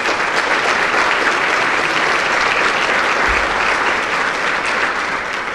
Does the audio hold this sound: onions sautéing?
no